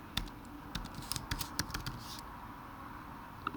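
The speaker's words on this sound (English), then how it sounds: "Let me just type this in." Computer keyboard keys typed in short irregular bursts of quiet, close clicks while entering a function into a graphing calculator, with no talking.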